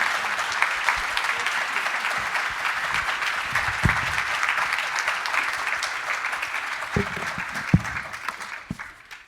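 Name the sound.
audience applause for Speaker Rivas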